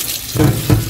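Water pours from a tap into a container while cooking breakfast, two short gushing bursts close by, each rising suddenly then easing off.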